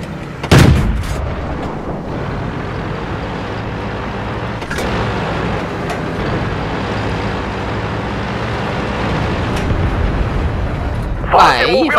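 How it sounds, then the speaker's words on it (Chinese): Tank cannons fire in the video game World of Tanks, with a heavy boom at the start and another near the end over a constant engine rumble, while a voice talks throughout. "我们重创目标、准备向目标开炮。"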